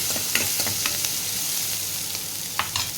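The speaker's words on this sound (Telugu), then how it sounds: "ఆనియన్స్ ఇది కొద్దిగా మగ్గనిద్దాము" Onions fry in a shallow amount of oil in a pan, giving a steady close sizzle with light scraping and stirring clicks through the short stretch.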